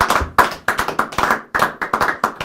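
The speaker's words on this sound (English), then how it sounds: "I think you're all going to join me giving Craig Petty a massive round of applause." Applause for Craig Petty during a magic live stream, heard as a handful of close, sharp, uneven claps from only one or two people rather than a crowd, with brief gaps between bursts.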